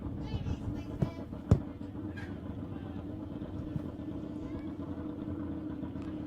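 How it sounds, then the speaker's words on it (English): Drag-racing motorcycles roll out into the arena at a grand final event, a steady engine rumble with a loud thump near the start. Crowd and announcer noise carry on underneath. "We've got our bikes coming out now."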